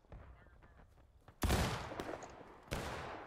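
Musket volleys crack out during a Civil War battle in War of Rights, two broad, loud bursts of gunfire with a rumbling tail between them over faint distant shots.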